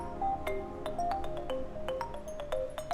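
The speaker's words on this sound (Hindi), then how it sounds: "देखो किसका फोन है।" A phone ringtone plays a repeating melodic pattern of short electronic tones with sharp clicks between notes, steady and moderately loud in a quiet room, no voices.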